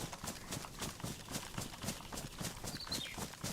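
Horse hooves from a horse mod in the video game DayZ clip-clop at a steady, quick rhythm, moderately loud and continuous, with no talk over them.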